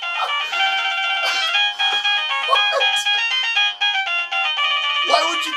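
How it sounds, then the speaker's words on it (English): Chinese wireless doorbell chiming a bright electronic Happy Birthday melody, loud and continuous, with people talking briefly over it. "hits the doorbell to leave a package, boom, he starts hearing happy birthday."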